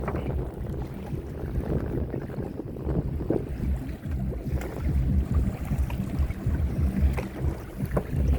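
Boat moving on the Meghna river through a stretch of strong current and waves, with steady engine and water rumble and wind buffeting the microphone, no talk.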